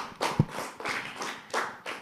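A group of children claps for their teacher in a studio for Quran study, giving a few scattered bursts of hand claps that are fairly quiet and uneven.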